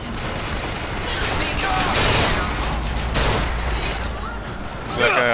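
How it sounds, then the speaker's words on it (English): Gunfire in the video game BioShock Infinite rattles in dense overlapping bursts, a continuous loud fusillade with a few sharper cracks standing out. "Don't stop firing!"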